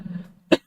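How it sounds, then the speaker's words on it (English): A single short cough from a person, sharp and close, following a faint stretch of low voiced murmur. "Excuse me. I'm sorry. I'm coughing."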